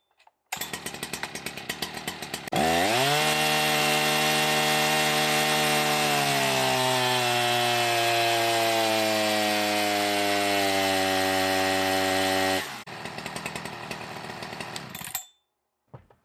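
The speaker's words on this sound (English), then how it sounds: "Husqvarna 61. It says brand new, first time ever firing it up." A brand-new 2019 Brazilian-made Husqvarna 61 chainsaw strapped to a dyno roars at full throttle on its first start, its steady buzzing whine dropping in pitch under load, preceded and followed by rougher idling, then cutting off.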